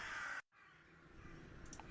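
Crows caw in the foggy outdoor scenery of The Last Door, a burst of harsh calls up front, then a brief drop to silence before faint, distant ambience and scattered caws return.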